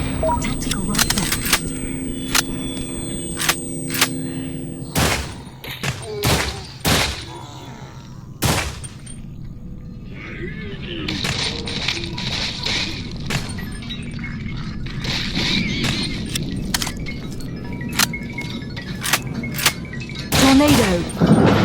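Video game gunfire from a sawed-off shotgun and a tactical rifle: loud sharp blasts, some single and some in quick clusters, broken by clicking and clattering, with a voice speaking over parts of it.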